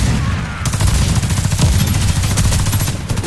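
Gunfire and explosions from the online shooter Warface, a dense run of rapid shots and bursts filling the whole stretch, loud and close with no pauses.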